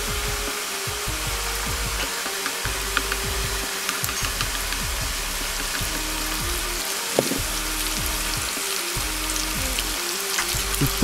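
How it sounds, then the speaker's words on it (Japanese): Oil heating in a pan until it starts to bubble, a constant close crackling fizz with dense little pops and gurgles that keeps going the whole time, no voices. "1分くらいしたら油がグツグツとしてくるのを確認して弱火にします"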